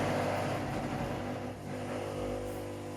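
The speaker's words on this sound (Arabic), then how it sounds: "خلونا نشوف كيف هسه راح تضخ المي" A Manger Home shampoo vacuum cleaner pumping water gives a steady, even motor hum close by for a few seconds, with a slight dip partway through.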